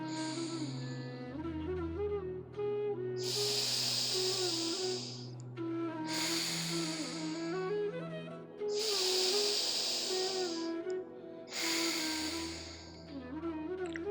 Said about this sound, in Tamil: ரைட்டில் மெதுவாக மூச்சு வெளியே விடுங்க திருப்பி லெஃப்டில் மூச்சு உள்ளழுங்க